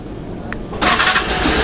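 Suzuki Access motorcycle engine started by remote, cranking briefly and then catching into a steady, close, loud idle.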